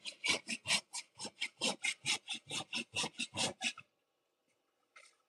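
Steady back-and-forth rasping of a hand saw through wood, about sixteen rhythmic strokes close by, then a pause and a faint final scrape.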